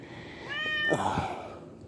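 A cat meows once nearby, loud and drawn-out with a rising then falling pitch, alone in a quiet room.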